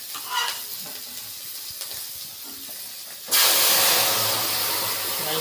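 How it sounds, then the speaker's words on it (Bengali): Dal lentils hit a hot pan and burst into a loud, steady hiss and sizzle that carries on strongly after a few quieter seconds of soft clinks and stirring, with no talk. "ডাল ভেজে দিলাম।"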